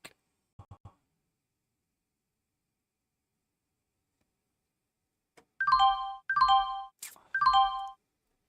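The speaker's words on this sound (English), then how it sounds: "4 seconds to the bell" The stock market opening bell sounds as three bright, evenly spaced chime tones after a few faint clicks and a long silence, clear and alone, heard from a live day trading session.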